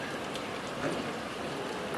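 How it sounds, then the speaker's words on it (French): Steady rain, replacing snowfall in Sallanches, falling on a surface, a dense continuous patter with a few slightly louder drops, fairly close and even throughout. "c'est la pluie, hein, qui remplace la neige"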